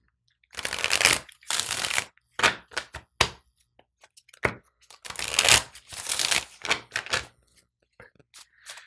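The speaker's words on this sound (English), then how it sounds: "let me get a couple of shuffles in." Tarot cards being shuffled up close: brisk riffling bursts and soft taps on a table, repeated several times with short gaps.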